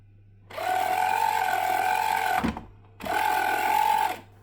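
Fanatec CSR steering wheel motor on a repair test, oscillating back and forth around its center position: two steady, close whirring bursts, the first about two seconds long and the second shorter, separated by a brief pause.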